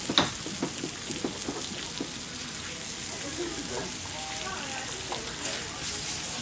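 Veal Marsala seasoned with sea salt and black pepper cooks in a pan, giving a steady close sizzle and light frying crackle throughout with a few sharper pops.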